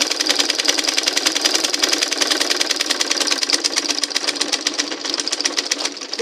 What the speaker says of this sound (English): So as I'm sewing it now, I'm following my hand inside.